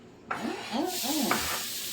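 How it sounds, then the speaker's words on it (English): Loud sizzling as ground beef hits a hot cast iron skillet, with scraping stirs and a continuous frying hiss up close. "Listen to that cast iron skillet a sizzling already"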